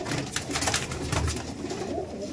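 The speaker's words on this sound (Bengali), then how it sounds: "একটু আলাদা রকমের ভিন্ন একটা আবলুক পায়রা আপনার সামনে তুলে ধরছি" An abluk pigeon coos in soft, low, throaty pulses close by, a short repeated murmur with no voices.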